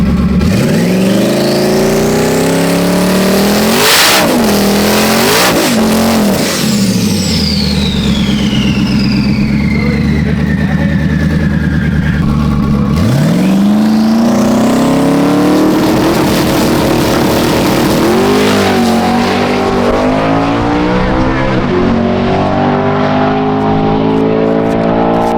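A 1300 whp car accelerates hard through second gear to 8000 RPM, its loud engine note climbing steadily under boost, then dropping back sharply before rising again and fading to a rough, uneven lower drone.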